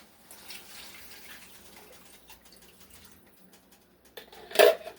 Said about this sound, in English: So now I'm going to add in 3 cups of beef broth.